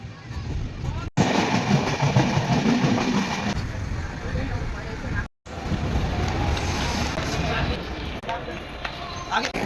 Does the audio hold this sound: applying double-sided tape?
no